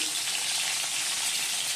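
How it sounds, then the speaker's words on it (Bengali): Fish frying in bubbling oil in a home kitchen, a dense, continuous sizzle heard close and fairly loud throughout, with no voices. "বন্ধুরা মাছটা ভেজে নিচ্ছি"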